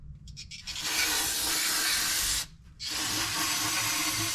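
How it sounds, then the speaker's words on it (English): Brake cleaner sprays from a new can, fogging down a vehicle's rear differential during a service: a loud, close continuous hiss in long bursts, broken by a short pause before spraying resumes. "Got me a whole brand new bottle of brake clean, and we are just gonna fog this thing down."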